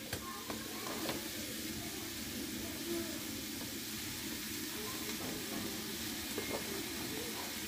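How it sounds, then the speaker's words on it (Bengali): Bitter gourd frying in a pan with onion, chili, salt and turmeric, a soft steady sizzle with faint stirring scrapes, quiet and continuous at close range. "তো এখন ভালো করে ভেজে নেওয়া হবে।"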